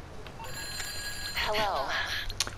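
A mobile phone rings inside the GTA 5 video game, a looping electronic ringtone over engine-like background rumble, loud and close, while a voice speaks over it.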